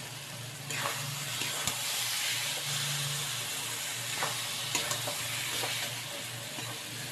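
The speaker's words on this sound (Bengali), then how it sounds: "নারকেল কোড়াটা দিয়ে এর সাথে বেশ সুন্দর করে মিশিয়ে নিচ্ছি" Ridge gourd curry with grated coconut being stirred in a pan, a soft continuous sizzle and hiss underneath with occasional faint scraping strokes of the spoon, fairly quiet and close.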